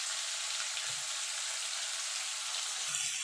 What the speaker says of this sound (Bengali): দেখুন বন্ধু ঝিঙেটা ভাজা ভাজা হয়ে গেছে, মানে নরম হয়ে গেছে